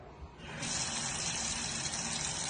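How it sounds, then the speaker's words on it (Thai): Water gushes steadily from a 360-degree swivel high-pressure faucet, starting abruptly and settling into a continuous close hissing rush. "แก้ไขปัญหาเหล่านี้ได้ด้วยก๊อก 360 องศา ปรับน้ำได้สองแบบ"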